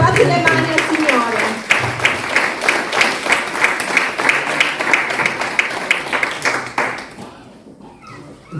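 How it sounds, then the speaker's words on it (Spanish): Church congregation applauding during a worship service, a steady wave of dense clapping with cheering voices mixed in that fades away near the end. "Denle un aplauso."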